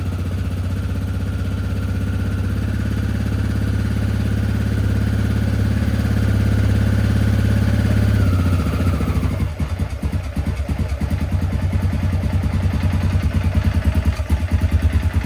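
A Yamaha Grizzly 600 ATV engine idles close by with a steady droning hum, then its pitch drops and it settles into a rougher, uneven chugging idle, still needing choke.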